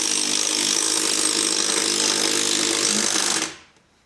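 A power drill bores into a barn, a loud steady grinding whine that runs nonstop for about three and a half seconds, then cuts off abruptly and leaves near silence.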